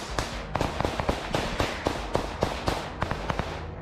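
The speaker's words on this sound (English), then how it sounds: "other Russian soldiers continued firing at the Ukrainian forces." Russian soldiers fire on Ukrainian forces in a war zone: a rapid, irregular string of sharp gunshots, about a dozen cracks in under four seconds, moderately loud and unbroken by speech.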